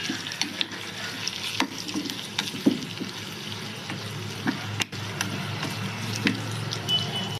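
Finely chopped garlic and ginger frying in hot oil while being stirred, a steady close sizzle with occasional scraping clinks from the utensil, no voices.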